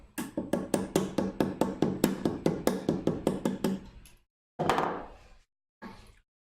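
Rapid, sharp mallet strikes on a chisel cutting wood for a shadow box, about fifteen evenly spaced knocks, then two short bursts of quicker taps after a pause, close and loud.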